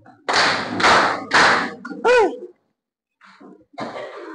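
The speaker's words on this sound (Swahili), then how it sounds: "Mpigeni makofi." A classroom audience claps hands in three short, loud bursts of applause, followed by a brief vocal sound, silence, and then faint scattered claps.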